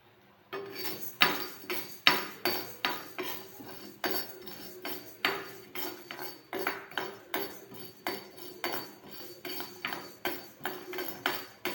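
Urad dal dry roasting for curry leaf idli powder, stirred steadily with a metal spoon in a pan, giving repeated scraping clinks in an even rhythm, close up with no talk.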